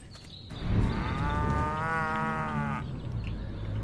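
Cows moo in the Destroy All Humans! Remake video game, one long, loud, drawn-out bovine call held for about two seconds over steady game ambience.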